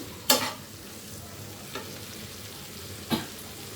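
Onion, tomato and green chilli fry in a pan, a low steady sizzle punctuated by three sharp stirring scrapes, the first loudest.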